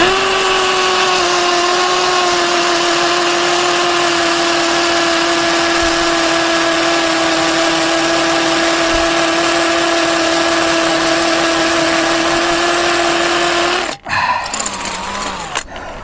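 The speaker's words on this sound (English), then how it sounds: "I'll put the other drill in, I think. See if it will go through with this one." A power drill runs loud and close, straining to bore through material for a long continuous stretch before cutting off abruptly, leaving some handling noise afterward.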